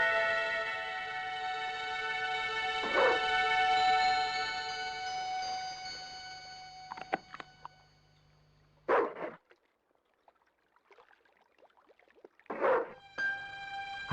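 A dog in the Broken Sword II video game gives a few isolated barks spaced seconds apart over a fading musical drone, with quiet patches between.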